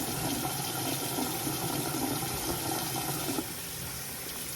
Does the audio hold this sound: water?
yes